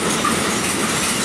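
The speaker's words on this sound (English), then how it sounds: "This is a load of coal train." A loaded coal train rumbles past close by, a steady dense roar of rolling wagons with faint clacking.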